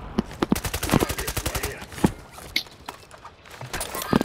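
Repeated bursts of video game gunfire in a duos battle royale match, rapid and fairly close, with sharp louder shots standing out amid a running rattle and some faint background movement.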